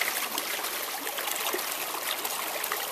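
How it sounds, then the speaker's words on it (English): A mountain stream flows steadily nearby, a constant bright rush and babble of water with no pauses and no voices. "take this mug and dip it in this beautiful stream"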